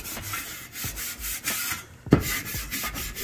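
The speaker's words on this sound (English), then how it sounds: "Just scuffing everything up." Bare metal is scuffed by hand ahead of epoxy primer, making short rhythmic abrasive rubbing strokes about every half second that sound close and dry with no talking.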